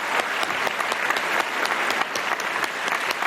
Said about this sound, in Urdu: بہت صحیح تالیاں، بہت صحیح تالیاں